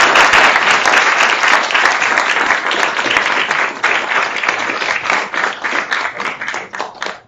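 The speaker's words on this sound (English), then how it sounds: "please join me in a round of applause for our presenters and for those that organized" A conference audience at an international law event applauds the presenters and organizers, with loud, sustained clapping from a full room that gradually loosens into scattered claps as it tapers off.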